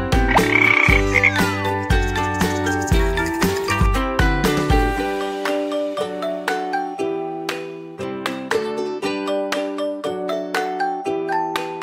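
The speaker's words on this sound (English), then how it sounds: "frog." A frog croaks in steady, repeating pulses over a backing of bright chiming tones, loud and close, with no talking.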